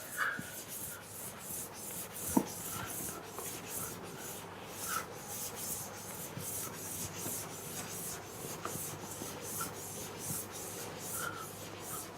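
Steady, continuous rubbing of writing off a board during a physics lecture, a scratchy, even friction sound lasting throughout at moderate level, with one sharp tap partway through and no talk.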